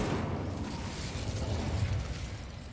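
An Incendio fire spell cast in Hogwarts Legacy lets out a sustained, rumbling whoosh of flame that swells and then fades, fairly quiet and with no voices over it.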